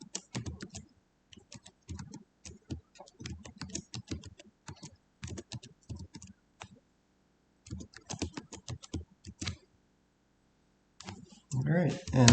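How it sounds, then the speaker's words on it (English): Rapid clicky presses on TI graphing calculator keys come in bursts and short pauses while a program title and option list are entered, with a voice briefly speaking near the end. "we're going to type out our title, and then all of our options"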